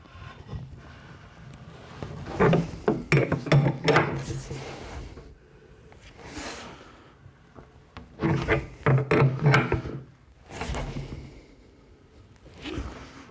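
Fitting being tightened by hand on a DIY portable oil tank, bursts of close scraping, rubbing and ratcheting metal handling in two main clusters with quieter shuffling between, no talking.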